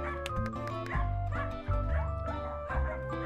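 A small dog whimpers and yips close by in short, uneven bursts, with faint background noise and no talking.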